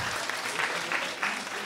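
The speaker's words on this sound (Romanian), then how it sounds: "Încă o dată aplauze, vă rog frumos" Audience applause at a Romanian stand-up comedy show, a dense steady clatter of clapping from a room full of people, continuous and fairly loud throughout with no talking over it.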